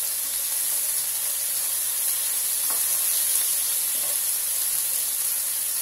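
Breakfast food with greens sizzling steadily in a hot pan, a continuous bright hiss with a couple of faint stirring clicks, close and alone without talk.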